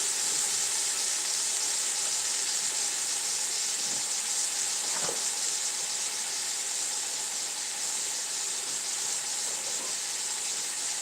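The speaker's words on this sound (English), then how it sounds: "And I'm going to go ahead and put my tomatoes." Chopped tomatoes sizzle steadily in a hot pot as the base of a mussel soup, a continuous bright frying hiss with a few soft clinks, close and unbroken, with no one speaking.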